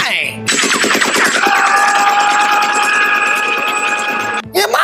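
A loud gunfire sound effect fires as a rapid, continuous burst of automatic shots lasting about four seconds, cutting off abruptly.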